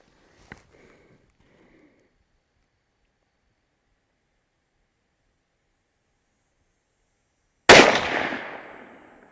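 A Ruger .308 rifle firing a single loud shot at the range while its scope is zeroed, a sharp crack followed by a decaying boom, preceded by a brief faint click and long silence.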